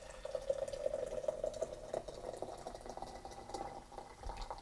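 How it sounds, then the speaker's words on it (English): Boiling water is poured into a teapot for rose and mint tea, giving a steady splashing, bubbling trickle that continues for several seconds, close and moderately loud with no talking. "first we're going to pour our boiling water in."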